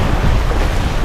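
A sailboat lightly rolling at six to seven knots through open Atlantic Ocean waves gives a close, loud, steady wash of water and wind noise with no voices.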